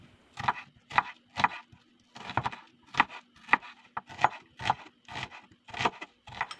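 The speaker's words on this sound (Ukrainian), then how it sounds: "Також нарізаю кубиком цибулю." A knife dicing an onion on a cutting board, about a dozen crisp, evenly paced chops, close up with no voices.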